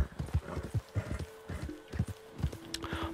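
A horse in Red Dead Redemption 2 clip-clops at a steady walk, its hoofbeats close and clear, with a brief whinny rising near the middle.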